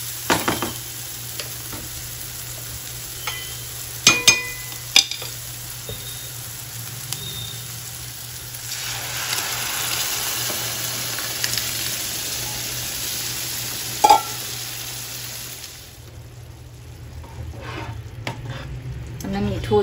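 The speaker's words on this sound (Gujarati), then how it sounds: "આપણે દાળ જે બાફીને તૈયાર કરી હતી એ આપણે અંદર ઉમેરી દઈશું." Boiled dal is stirred into mashed tomato masala in a pan, with soft scraping and stirring, a few sharp utensil clinks and a quiet continuous sizzle under it all.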